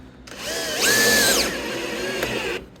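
A power drill drives screws into a wooden tree swallow nest box, its close, loud motor whine rising and falling in pitch over about two and a half seconds of steady driving.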